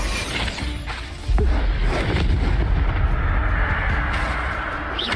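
Bombarda blasting-spell explosion in Hogwarts Legacy: a sudden loud boom with a long rumbling, crackling tail that stays dense and heavy for several seconds.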